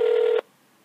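A telephone being dialed for a prank call, heard as a single clear keypad tone held for under half a second and then cut off into faint line hiss.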